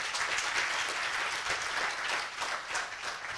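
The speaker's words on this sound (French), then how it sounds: "On va l'applaudir très très fort." An audience applauds steadily throughout at a tribute event in Côte d'Ivoire for a communications figure, a dense, even wash of many hands clapping with no talk over it.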